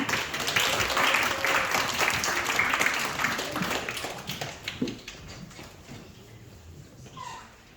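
An audience at a middle and high school learning festival claps to welcome ninth-grade student presenters; the dense applause fades away after a few seconds, leaving scattered faint taps and near silence.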